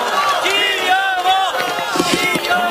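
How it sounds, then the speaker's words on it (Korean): Audience at a Democratic Party meeting cheering and shouting as a Seoul party chairman is welcomed to the stage, a brief burst of overlapping voices and whoops, loud and crowded. "여러분 힘찬 박수로 앞으로 모시겠습니다"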